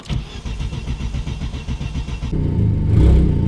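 A big-turbo Audi A4 engine cranks with rhythmic chugging, then catches and runs loud and close, rising into a rough rev.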